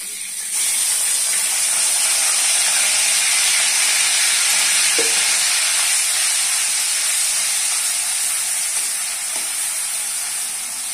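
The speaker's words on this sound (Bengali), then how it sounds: "ঝালের জন্য দিয়ে দিচ্ছি পেঁয়াজ বাটা" Onion paste frying in a pan for a spicy curry gives a loud, steady sizzle and hiss that holds evenly throughout, with a couple of faint stirring knocks.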